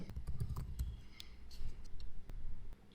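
Sparse keystrokes on a computer keyboard as a short text prompt is typed, quiet and close, a few soft clicks at an uneven pace with gaps between them.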